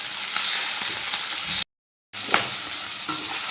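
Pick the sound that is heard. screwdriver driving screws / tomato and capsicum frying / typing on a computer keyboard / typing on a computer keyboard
tomato and capsicum frying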